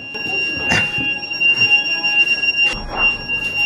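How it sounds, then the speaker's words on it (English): A high electronic alarm tone sounds steadily throughout on a boat, set off by ringing the bell too hard, with a couple of short bursts of noise breaking in over it. "Uh-oh, the alarm's going off."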